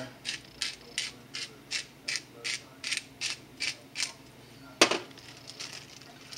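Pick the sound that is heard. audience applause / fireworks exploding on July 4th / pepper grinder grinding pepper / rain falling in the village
pepper grinder grinding pepper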